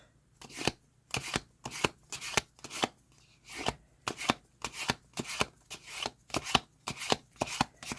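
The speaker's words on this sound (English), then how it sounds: "I'd like the sound of shuffling." Tarot cards are riffled and shuffled in quick, regular bursts, a papery flutter repeating about twice a second, close up with no talking.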